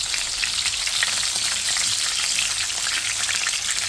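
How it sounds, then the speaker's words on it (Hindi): Chicken seekh kababs fry in a pan, giving a dense, steady, close sizzle like light rain that holds evenly throughout with no voices. "जो रह गए हैं उन्हें फिर मैं फ्राई कर लूँगी बाकी को"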